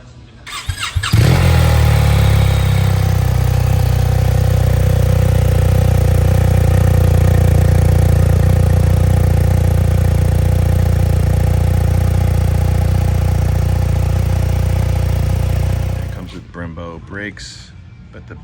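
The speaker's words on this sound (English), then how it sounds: "I'll start this thing up and see what it sounds like." BMW R 1300 RS motorcycle engine cranks, catches and settles into a steady, loud idle held close by for about fifteen seconds, then shuts off, with a few brief clicks and noises after.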